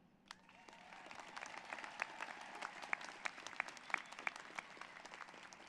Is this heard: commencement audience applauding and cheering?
yes